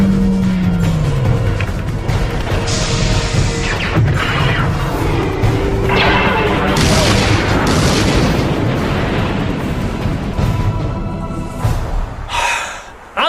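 Loud, continuous cinematic barrage of weapons fire and booming explosions, a falling whistle at the start followed by dense, rumbling blasts and bursts that roll on without pause before cutting off abruptly.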